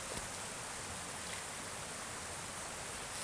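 Creek water flowing steadily through a winter forest in Allegheny National Forest, a soft, even broadband rush close by with no voices.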